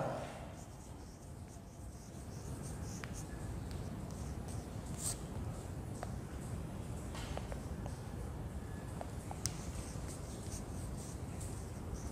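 A pen scratches faintly and steadily across paper while a large number is written out in words during a maths lesson, with soft, continuous strokes and no talking.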